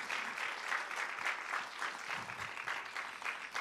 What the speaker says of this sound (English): let's give a round of applause for Jesus